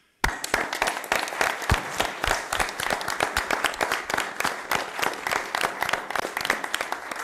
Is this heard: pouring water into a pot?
no